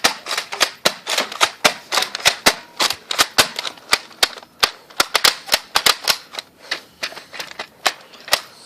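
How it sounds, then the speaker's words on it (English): Nerf gun firing in rapid bursts, a dense run of sharp plastic snaps and clicks repeating close and loud for several seconds, with no talking over them. "This gun jams a lot, by the way. I would not recommend this gun."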